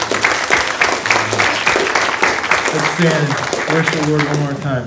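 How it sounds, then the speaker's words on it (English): Church congregation clapping at a Father's Day service, loud steady applause under a pastor speaking, with music or singing rising toward the end. "Let's give a clap."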